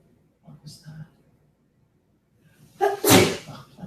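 A single sudden, loud sneeze bursts out near the end, close and sharp, after brief quiet talk in a classroom Greek lesson.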